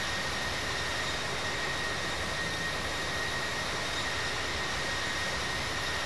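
An airliner takes off in the Infinite Flight simulator, giving a steady, loud jet engine roar with a broad hiss and a thin high whine that hold unchanged throughout.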